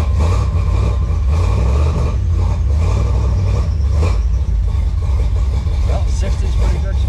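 A car engine runs at a steady idle with a low, constant rumble while its oil pressure is checked on a gauge, close by and unbroken.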